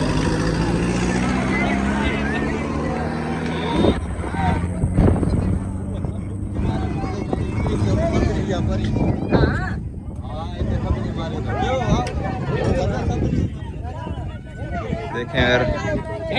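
Heavy engines of two Russian-made tractors, a 2009 and a 2024 model, drone and labor continuously in a tractor pulling contest under outdoor wind noise, with voices talking over the rumble throughout.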